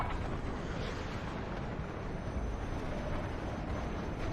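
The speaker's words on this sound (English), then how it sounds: "Oof, nice little Buratino strike." Buratino thermobaric rocket strike in the game WARNO: a dense, sustained rumbling roar of explosions, loud and even throughout, with no distinct pauses and no voices.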